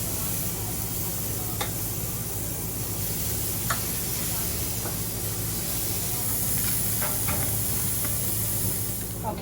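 Citrus tequila lime chicken sizzles on a hot grill, a steady close hiss with a faint low hum and a few soft clicks, no talking over it.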